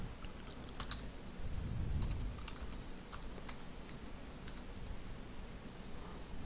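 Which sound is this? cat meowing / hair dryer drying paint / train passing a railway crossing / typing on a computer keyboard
typing on a computer keyboard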